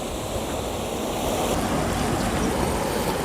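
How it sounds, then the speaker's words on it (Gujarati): A stream rushes between large rocks in the Kadiya Dhro river canyon in Kutch, making a steady, loud and close wash of running water with no voices heard. "આ બાજુ ઝરણું ચાલુ છે કલકલ વહેતું પાણી"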